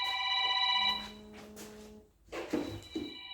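An indoor telephone rings with a steady electronic tone for about two seconds, clear and fairly close, before it gives way to brief rustling noise.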